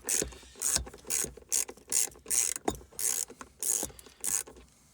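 A ratchet with a 10mm socket working on the center console of a Land Rover Discovery 2 TD5, giving about ten quick, close buzzing clicking bursts in an even rhythm.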